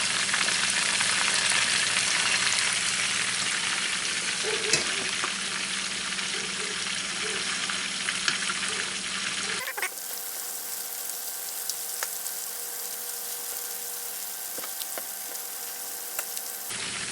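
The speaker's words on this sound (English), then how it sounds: "I am just going to turn them over to the other side." Meatballs frying in a pan, a steady close sizzle that continues as they are turned over, dropping to a softer, thinner hiss partway through with a few light taps from the utensil.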